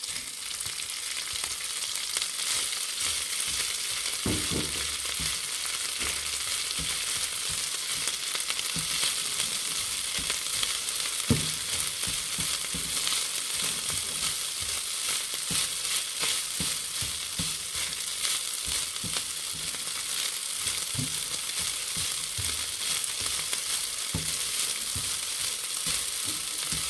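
Garlic rice frying in a hot pan as cooked rice goes in: a steady, even sizzle runs throughout, with occasional soft scraping and stirring knocks over the hiss.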